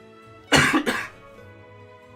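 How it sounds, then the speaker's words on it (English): A single close, harsh cough in two quick bursts, followed by quiet. "I keep coughing, and it's so annoying."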